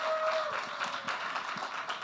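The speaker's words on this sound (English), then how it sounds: "Let's give another round of applause for Hilary, Karlos, and Tennessee." An audience at a Midwest conference panel on population growth and talent attraction gives a round of applause: a moderate, fairly distant patter of clapping from the hall, with no talk over it.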